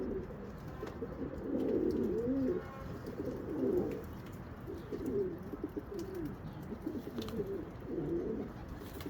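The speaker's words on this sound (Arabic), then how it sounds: "دابا هذاك الحمام بغي نفيريفيه" Close pigeons give soft, throaty cooing in repeated rolling phrases across the whole span, steady and fairly quiet over faint background noise, with no speech.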